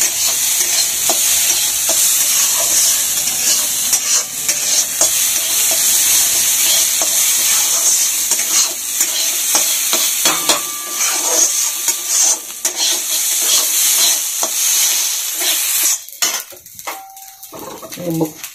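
Rice fries over medium heat in a pan, a loud continuous sizzle broken by frequent scraping stirs of a spoon against the metal, near and clear throughout.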